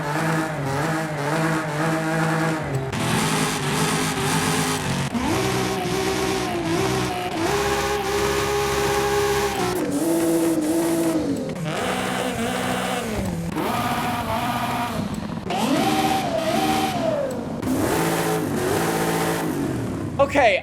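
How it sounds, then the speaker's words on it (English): A lifted Nissan rally truck in Forza Horizon 5 revs up a series of swapped engines, one after another, each rising and falling in pitch in loud, continuous bursts. "we've got a lot of different engine swaps. So as I've done in the past, I'm going to scroll through them, rev them up"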